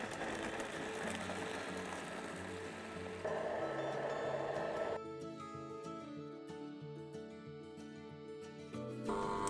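Home ice cream maker churning a coconut milk mixture, a steady mechanical whir and rattle with shifting tone, moderately quiet and continuous, no talk.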